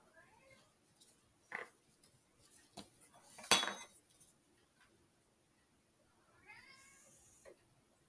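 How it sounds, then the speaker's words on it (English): A house cat gives a few soft meows near a kitchen bench, mixed with close clinks of cutlery and dishes and one sharp metallic clatter, all fairly quiet. "You'll probably hear my cat too."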